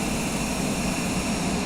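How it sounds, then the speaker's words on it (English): A Cessna Citation Longitude business jet roars steadily on takeoff from Lihue, Kauai, heard as a loud, continuous broadband engine rush with no breaks. "There's our girl, 343 Bravo Whiskey, taking off out of Kauai after a fantastic 6 days."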